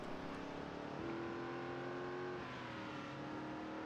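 A car engine in the video game Project Zomboid drones and revs steadily while driving, a continuous loud hum with a rising pitch partway through and no speech over it.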